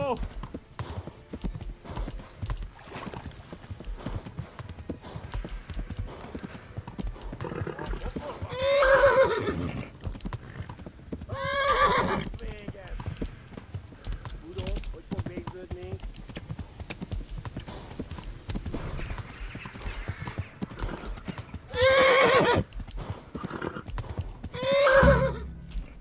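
A horse in the video game Kingdom Come gallops with steady rhythmic hoofbeats throughout and lets out several loud neighs, with someone talking over the action.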